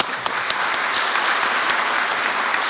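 Steady audience applause at a veterans health care facility event, dense and even throughout, with scattered sharper claps standing out from the crowd.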